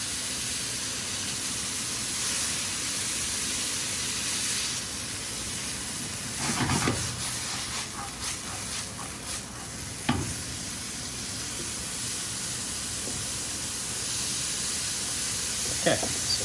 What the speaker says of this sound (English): So we're just sweating the celery and carrots just to get them soft.